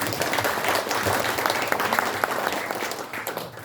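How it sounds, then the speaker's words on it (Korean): An audience at a launch ceremony gives sustained applause, many hands clapping in a thick, steady roar that tapers slightly toward the end. "다시 한번 박수 부탁드립니다."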